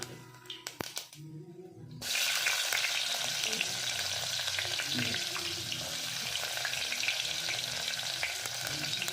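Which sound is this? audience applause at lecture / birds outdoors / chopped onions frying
chopped onions frying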